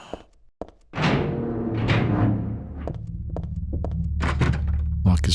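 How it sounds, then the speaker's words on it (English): A locked door being tried in the Silent Hill 3 video game: a couple of soft clicks, then a heavy resonant rattling thunk of the handle that rings on, followed by more clacks and a low droning hum. "Lock is broken."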